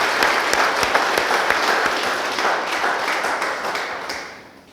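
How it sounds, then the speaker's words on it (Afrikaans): Church congregation at a Sunday service applauding together, a sustained burst of many hands clapping that stays full and even before tapering off toward the end. "Kom ons gee vir die Here 'n lekker hande klappe."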